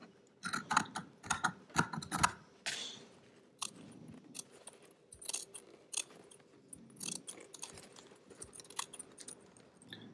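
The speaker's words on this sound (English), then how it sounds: "using the good scissors for this" Good scissors trimming fabric for a dress, a series of close, crisp snipping clicks in irregular bursts with brief pauses between cuts.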